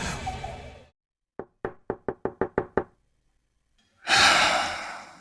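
Eight sharp, evenly spaced knocks on a door ring out in a quick run, framed by breathy gasping sounds before and after.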